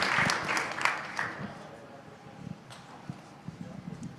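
A crowd at a startup investment summit finale applauds for the founders, a burst of clapping that fades over a couple of seconds into scattered claps and room noise.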